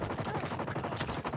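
Rapid gunfire crackles in Call of Duty Mobile, a dense burst of automatic shots packed into little more than a second, loud and close.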